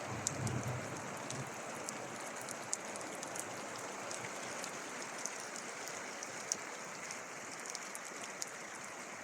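Steady rain hisses evenly on a mountain hike near Lago Volaia, a dense, constant wash of drops with a few sharper taps landing close by.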